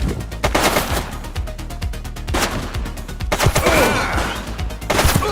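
Rapid automatic gunfire in the police game The Precinct rattles on for several seconds in close, loud, continuous bursts, with a short break and then renewed shooting.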